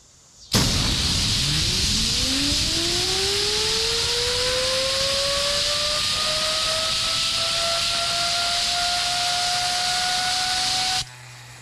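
A gyroscope spun up by an air compressor nozzle at 80 psi gives a loud, steady hiss of air jetting over a rising whine whose pitch sweeps upward and levels off, held alone for about ten seconds before cutting off.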